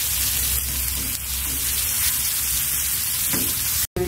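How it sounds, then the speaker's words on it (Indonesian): Two crushed garlic cloves sautéing in two tablespoons of oil for a chili sauce, a steady close sizzle with crackling pops throughout and a brief cutout near the end, no talking. "Di sini saya siapkan 2 sendok makan minyak, kita tumis 2 siung bawang putih."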